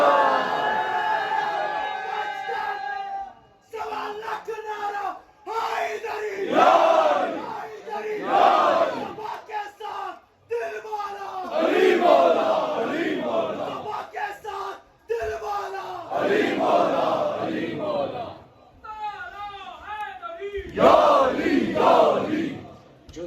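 Gathering at a 15 Shaban religious celebration for the birth of Imam Hussain and Hazrat Abbas, a large crowd loudly chanting the Naara-e-Haider slogan in repeated call-and-response waves, powerful shouted bursts separated by short pauses and a leading voice.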